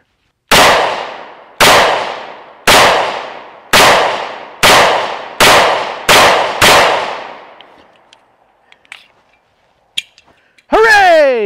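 An ATI Moxie FXH45 hybrid 1911 pistol fires eight loud, sharp shots at a steady pace, each with a ringing decay. A few faint clinks follow, then a brief voice near the end.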